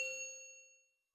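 A single clear notification bell ding, bright and metallic, struck once and ringing out in a smooth decay that fades to silence within about a second.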